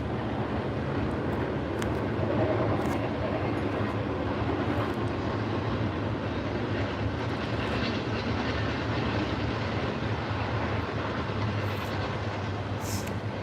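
A freight train without a pusher engine rolls past in a long continuous rumble, with steady low roar and faint clattering wheels that stay loud and close throughout.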